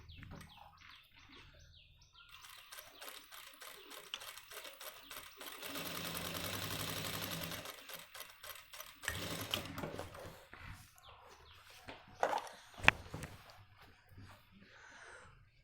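A sewing machine stitches a Nehru jacket, a faint, quiet burst of rapid mechanical whirring midway through, with softer handling noises and brief clicks around it.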